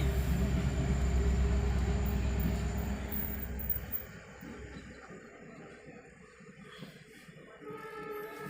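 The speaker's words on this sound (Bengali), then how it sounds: "ট্রেন যাচ্ছে" A train rumbles past close by, a loud heavy roar that gradually fades into quieter background noise as it moves away.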